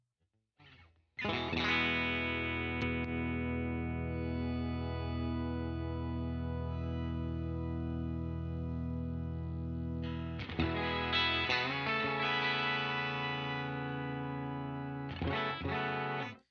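Electric guitar through an Electro-Harmonix POG2 octave-up pedal, bright octave-up effect, long sustained chords ringing with a shimmering, synthetic tone, a few chord changes, no talking.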